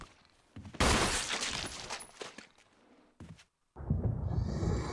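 Gunfire from Resident Evil, a loud close burst of shots with crackling impacts, then a pause, a brief silence, and a return of dense noise.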